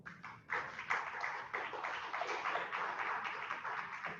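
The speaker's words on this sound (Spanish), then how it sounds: "Un fuerte aplauso." Audience applause at a university lecture, starting with a few scattered claps before the whole room joins in a full, even ovation that holds steady at a fairly soft level, with no talking.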